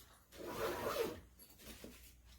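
A zipper being drawn along the top of a fabric carrying case for a KIMO 20V cordless weed wacker and blower combo, one steady rasping pull, close and fairly quiet, with a softer follow-up rub near the end.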